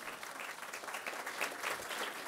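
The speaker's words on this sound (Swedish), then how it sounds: "En applåd." A seated audience at a panel talk gives a short round of applause, a soft, even wash of clapping heard from a distance with no voices.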